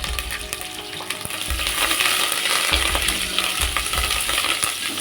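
Green chilies and curry leaves fry in hot oil for a dhaba-style dal, a steady close sizzle with sharp crackles and occasional utensil clinks and stirring thuds, no voices.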